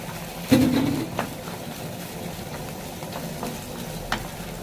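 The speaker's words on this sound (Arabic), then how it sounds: "في الوقت ده انا هحط السجق" Alexandrian sausage goes into a pan of browned onions, giving a brief burst of frying followed by a soft, steady sizzle with occasional light stirring clicks, close by.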